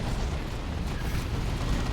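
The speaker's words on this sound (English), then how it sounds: "Terminators now with their assault cannon." Terminator assault cannon firing in the real-time strategy game Dawn of War II: Retribution during a 3v3 match, a dense, continuous low rumbling barrage of rapid shots with steady loudness throughout.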